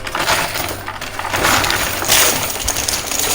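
A high-limit coin pusher machine shedding quarters and chips, a loud, close cascade of clinking and rattling metal with continuous jingling and clattering bursts.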